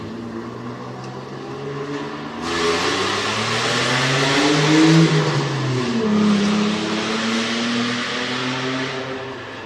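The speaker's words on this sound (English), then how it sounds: "Guess that's what a hoopty Camaro sounds like with no muffler on it." A beat-up Chevrolet Camaro running with no muffler, a loud, raw exhaust roar that swells sharply after a brief quieter start and holds steady with shifting engine tones, no voices.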